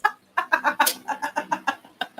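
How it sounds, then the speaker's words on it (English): A nearby rooster lets out a quick rhythmic run of about ten loud, close clucking calls after a brief pause, with no speech over it. "There's a rooster nearby."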